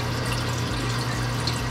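Red Sea RSK 600 protein skimmer running in a reef aquarium, a loud steady wash of churning, bubbling water with a low pump hum underneath, continuous and close, no voices.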